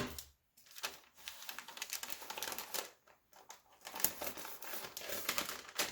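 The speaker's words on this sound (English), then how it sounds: "And we'll tape it shut." A gift-wrap paper bag is taped shut, with close, quiet bursts of paper crinkling and sticky tape pulling and pressing, broken by brief pauses and no talk.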